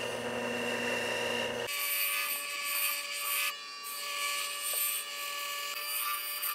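A Nevada lapis cabochon is polished on a 14,000-grit wheel, with a steady tonal whir of the machine joined by a brighter, scratchy rubbing hiss as the stone presses against it, continuous and close.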